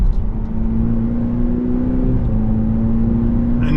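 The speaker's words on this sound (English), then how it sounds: "Now our shifts are a bit crisper." Cadillac CT5 Sport AWD accelerating in sport mode, its engine a steady, loud drone that climbs in pitch, dips briefly at a gear change and then rises again, close and continuous with no talking.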